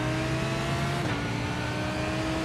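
Race car engine in the iRacing sim, a steady loud drone with sustained tonal whine and a slight pitch dip midway, continuous throughout with no talk.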